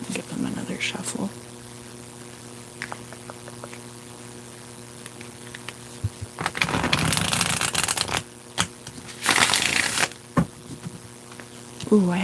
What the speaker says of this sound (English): Give them another shuffle.